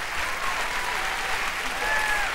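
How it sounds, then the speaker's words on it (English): Sustained clapping from a church concert audience cheering on children, a dense even roar of hands throughout, with faint voices mixed in beneath. "Keep clapping for them."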